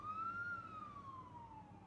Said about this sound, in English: Not a police car, fire truck.